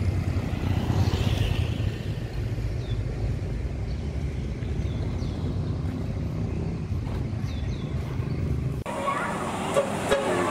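An ALS intercity bus pulls away from the Bareh Solok bus terminal, its diesel engine a steady low rumble amid busy terminal noise, with brief horn-like chirps and a sudden brighter burst near the end.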